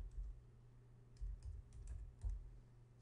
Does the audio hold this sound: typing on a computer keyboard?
yes